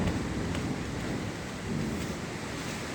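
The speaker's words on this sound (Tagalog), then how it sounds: "Biglang bumuhos ang malakas na ulan. Ulog at kidlat." Heavy rain pours down in a sudden downpour with thunder and lightning, a dense, steady hiss with a low thunder rumble underneath, loud and continuous throughout with no voices.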